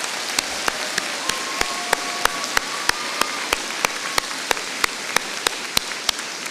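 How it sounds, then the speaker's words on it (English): Sparse, evenly spaced claps or taps at a graduation ceremony for graduates, each sharp hit distinct against steady background noise, a faint tone running underneath, no talking. "And can we please have a round of applause for our graduates?"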